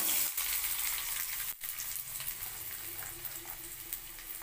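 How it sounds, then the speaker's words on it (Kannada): Chopped onions frying in hot oil in a pan for a North Karnataka brinjal dish, a steady close sizzle with light crackle throughout and a couple of brief stirring knocks. "ಆಯಿಲ್ ಬಿಸಿ ಆಗಲಿ, ಸ್ವಲ್ಪ ಆಯಿಲ್ ಬಿಸಿಯಾಗಿದೆ. ಇದಕ್ಕೆ ಇವಾಗ ಈರುಳ್ಳಿ ಹಾಕ್ಕೊಳ್ಳೋಣ."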